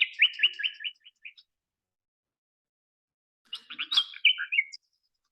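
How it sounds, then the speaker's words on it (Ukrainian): A songbird delivers two short bursts of rich, rapid warbling, separated by a few seconds of silence, clear and close. "Так співає Соловейко."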